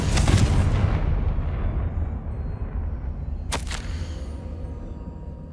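In the video game Hogwarts Legacy, a Confringo spell blasts through a barrier: a heavy, loud explosion opens with a deep rumbling boom that slowly decays, then a sharp second crack cuts in partway through before fading out.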